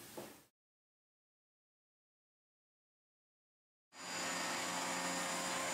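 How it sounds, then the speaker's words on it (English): Dyson DC28 Animal vacuum cleaner running, a brief burst cut off, then silence for over three seconds before a loud steady motor whine starts up and continues to the end. "this is the Dyson DC28 Animal Vacuum"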